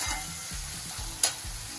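Raw vegetables for veg hakka noodles stir-fried in a pan, a steady close sizzle with rhythmic scraping strokes of a spatula roughly every half second and one brief clink.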